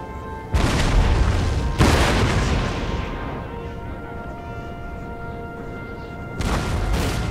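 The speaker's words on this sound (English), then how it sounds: "enemy artillery just smacking down everything I have at this point" Enemy artillery pounding troops during the Battle of Ligny in Napoleon: Total War, with three loud, deep cannon booms spaced apart, each followed by a long rumbling decay.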